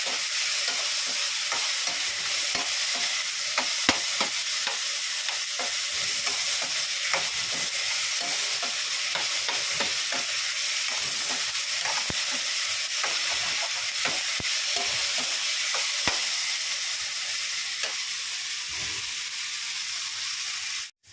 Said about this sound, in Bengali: একটু ভালো করে ভাজা ভাজা হোক নুন দিয়ে দিয়েছি অল্প করে আর হলুদ দিয়েছি একটু